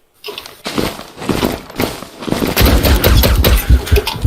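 Rapid gunfire from the video game Zula, including a magnum and Luger pistols: dense bursts of loud shots in quick succession, growing heavier and continuous toward the end, with no talk over it.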